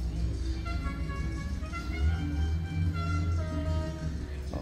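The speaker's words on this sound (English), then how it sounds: "Somebody got a road runner out here." At a Mopar car show, a Plymouth Road Runner's engine rumbles low and fairly faint in the background, a steady throaty drone under general outdoor crowd noise.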